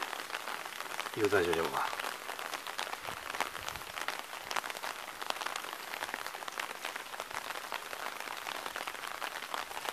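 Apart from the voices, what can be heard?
rain falling while driving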